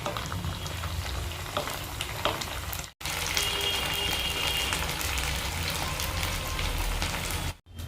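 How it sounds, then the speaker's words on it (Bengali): Chicken pieces frying in mustard oil in a pan, a loud continuous crackling sizzle that drops out briefly twice as the pieces are turned, with no talk. "মা চিকেনগুলোকে উল্টে পাল্টে হালকা করে ভেজে নেবে।"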